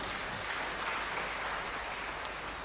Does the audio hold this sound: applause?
yes